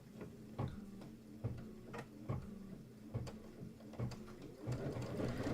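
A domestic sewing machine runs a tack-down stitch in short bursts, its rapid mechanical ticking clear and steady, stopping and restarting a few times at close range with no talk.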